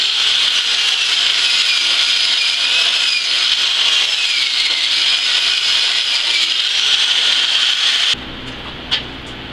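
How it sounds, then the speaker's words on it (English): A wire brush scrubs slag off root passes of a multi-pass flux core weld, making a loud, steady, close scraping rasp for about eight seconds before it stops abruptly. No one speaks. "I'm going to hit it with the wire brush anyway."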